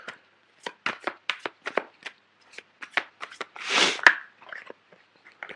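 Tarot cards being shuffled: a quick series of crisp riffling bursts, close and distinct, followed by one longer bridging riffle and a few softer taps as the deck settles.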